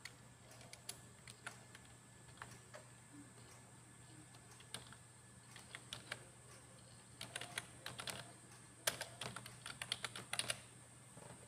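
Someone types a user name on a laptop keyboard during a Windows 10 installation, producing scattered soft key clicks that come in short irregular bursts and grow busier toward the end over a faint steady hum, with no voices.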